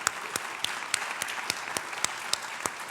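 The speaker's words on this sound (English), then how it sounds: "one last round of applause for all of these wonderful students that we've honoured tonight" Audience applause at an East Georgia State College honors night ceremony for honored students, a steady wash of clapping with several sharp, distinct claps standing out near the recording point.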